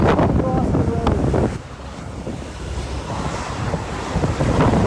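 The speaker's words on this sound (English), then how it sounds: "The wind is blowing my small frame here, body frame." Strong wind buffets the microphone on a walk through downtown Oranjestad, Aruba, a loud continuous roar that dips briefly and then builds again, with surf-like rushing throughout.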